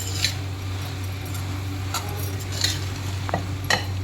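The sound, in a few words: stirring fried potatoes with mint and coriander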